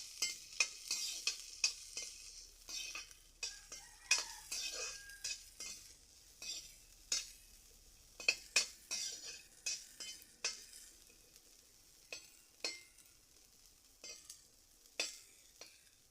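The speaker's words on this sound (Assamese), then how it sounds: "এতিয়া মই এইখিনি ভাজি ল'ম" Semolina (suji) mixed with chopped ingredients frying in ghee and stirred with a spoon, soft sizzling under repeated scraping and tapping strokes against the pan, close and fairly quiet.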